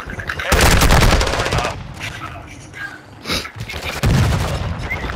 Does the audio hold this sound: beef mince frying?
no